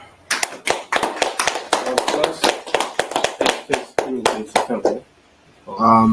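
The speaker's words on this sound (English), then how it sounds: "All right, clap it up." Small group clapping in sharp, fairly regular slaps close by for several seconds, then stopping; after a short pause a voice is heard.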